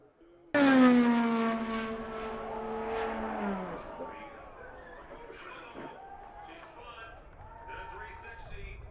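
An IndyCar engine roars in loudly and its pitch slides downward as it passes, then fades into a muffled background of crowd noise.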